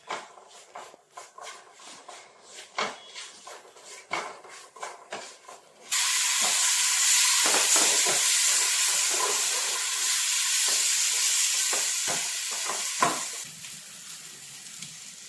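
Eggs frying with chilli and coriander in a pan, a steady loud sizzle and hiss that starts suddenly after quieter stirring and scraping, then continues close and even with occasional utensil taps.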